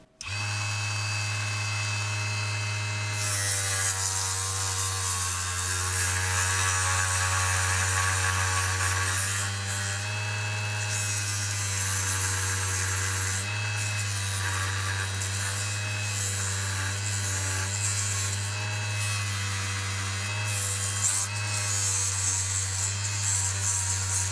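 A belt sander running on a mini lathe hums steadily for a long stretch, a constant motorized whine with a grinding, abrasive edge, close by and uninterrupted.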